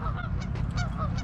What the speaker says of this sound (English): These geese are having a good time.